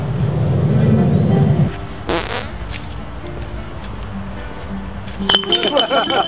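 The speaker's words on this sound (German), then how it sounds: "Da ist aber mal eine Flasche geflogen." A glass beer bottle is thrown and clinks sharply, with clattering glass near the end, amid low rumbling and voices talking.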